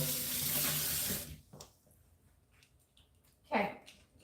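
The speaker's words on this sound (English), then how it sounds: "I'm constantly rinsing and washing stuff off." Water running into a kitchen sink during rinsing, a steady rushing stream that stops abruptly, followed by quiet handling noises and a brief splash.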